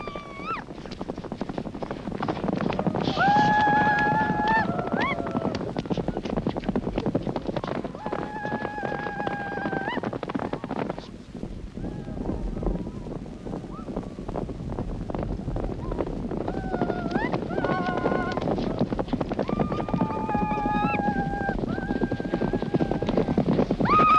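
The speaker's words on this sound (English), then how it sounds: "Mongolian horse racing is certainly exciting." Horses gallop in a traditional Mongolian race ridden by children over long open-country distances: a dense, steady drumming of hooves under strong wind buffeting, with repeated whinnies and high cries rising over the rush.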